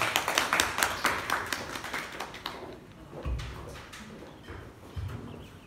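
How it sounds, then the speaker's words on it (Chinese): An audience at a university debate tournament in Guangzhou claps to welcome the debaters onto the stage. A dense burst of clapping opens the clip and then thins into scattered claps and a few thumps. There is no speech. "让我们用热烈的掌声欢迎双方辩手入场"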